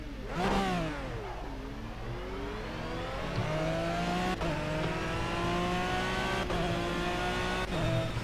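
Aston Martin V12 Vantage GT3 engine in a racing game at Le Mans Circuit Bugatti, revving up and down with rising and falling gear pitch, loud and continuous with brief shift cuts and no talk.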